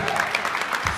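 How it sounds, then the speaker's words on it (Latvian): An audience applauds senior ballroom dancers at a dance competition, a short burst of clapping heard close, with a voice speaking over it. "Pateicamies ar aplausiem šīs grupas dejotājiem."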